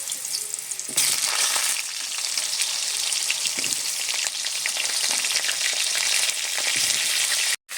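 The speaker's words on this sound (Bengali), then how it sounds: "কড়াইতে তেল দিয়ে তেলটা গরম করে নিয়েছি পটল আলু একসাথে ভেজে নেব আলাদা করে" Pointed gourd and potato pieces fry together in hot oil in a wok, a loud, dense crackling sizzle that starts abruptly and runs steadily with scattered stirring knocks, close up, before a brief cut at the end.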